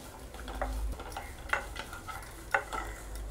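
Coconut and cashews sizzle in a hot pan while a spoon stirs and scrapes, with a few sharper clinks against the metal.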